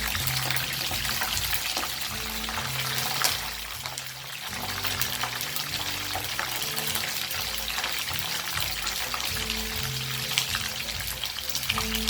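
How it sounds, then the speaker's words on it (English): Chicken lollipops frying in oil, with a steady, close crackling sizzle throughout and a low hum under it; no talk. "Just turn it round so that it is getting nicely fried all the sides."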